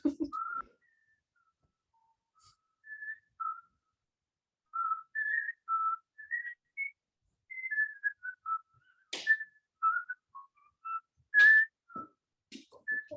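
A person whistles a wandering, tuneful melody of short clear notes with pauses between phrases, fairly close and alone, with a few faint clicks and knocks in the background.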